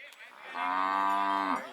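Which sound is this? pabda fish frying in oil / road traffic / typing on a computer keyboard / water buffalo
water buffalo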